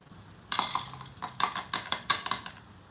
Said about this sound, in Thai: นี่เดี๋ยวแม่จะเอาถ้วยใส่ตาก่อน